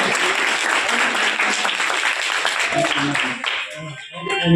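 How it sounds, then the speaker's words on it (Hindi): A hall of schoolchildren applauds a girl awarded a scholarship at a government upper primary school, dense steady clapping that thins out near the end. "और सभी बच्चे जो है तालियों से इस बारी का स्वागत करें।"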